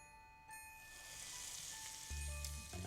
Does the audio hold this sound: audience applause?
no